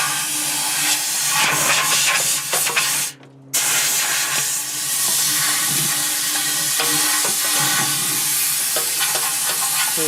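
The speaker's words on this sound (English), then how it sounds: "I got my air compressor to blow it dry some more, and it loosened up some of the rust flakes" Air compressor nozzle blasting into a Harley Heritage Softail fuel tank to clear loose rust flakes, a loud continuous hissing rush that cuts off briefly once and then resumes steadily.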